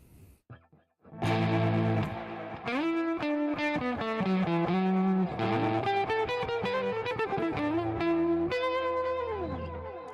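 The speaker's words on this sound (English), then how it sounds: "here's my basic tone, right? Like, this is what I love my guitar to sound like." An electric guitar played through an effects unit with a basic tone and light distortion rings out in strummed chords and single notes, sustained and fairly loud with lingering decay.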